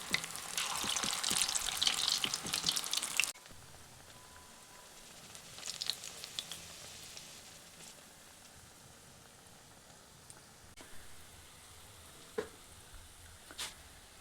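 Bread pakoras frying in hot oil in a pan: a loud, dense sizzle at first that drops to a quieter, steady crackle with occasional pops.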